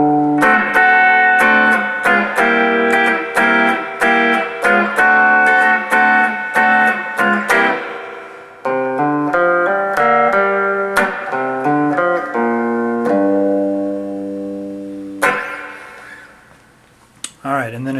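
Electric guitar rocking back and forth between the 5 and 4 chords of a song, loud and close, ringing strummed chords with some sliding bends, played alone without talk.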